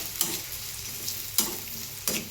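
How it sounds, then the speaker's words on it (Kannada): Onion frying in hot oil with a soft constant sizzle, punctuated by three distinct stirring scrapes of a spoon in the pan. "ಈಗ ಇದಕ್ಕೆ ಈರುಳ್ಳಿ ಹಾಕೊಳ್ಳೋಣ್ರಿ ಫ್ರೆಂಡ್ಸ್. ಹಾಕೊಂಡು ಎಣ್ಣೆಗೆ ಫ್ರೈ ಮಾಡ್ಬೇಕ್ರಿ ಫ್ರೆಂಡ್ಸ್."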